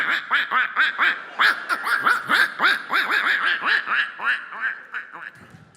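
A comedian on a talent-show stage imitates a stream of ducks quacking with his voice, a fast run of loud, nasal quacks that continues steadily and then tapers off, with some laughter mixed in.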